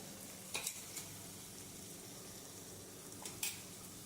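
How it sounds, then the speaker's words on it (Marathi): Onion paste sautés in a pan for a spicy shellfish amti, giving a soft, continuous sizzle broken by a few brief stirring scrapes, with no talking. "आता आपण हे वाटण व्यवस्थित परतून घेऊया"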